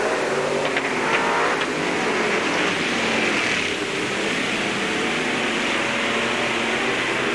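Race cars roar past on the final lap of a 1999 oval track memorial race, a loud, continuous engine drone with rising and falling revs as they sweep through the turns.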